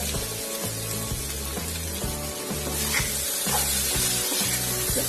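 Crumbled idli, powdered by hand, stirred in a hot pan for a Kerala-style evening snack: a steady sizzle with repeated rhythmic scraping strokes of the spoon, close and fairly loud throughout, no talking.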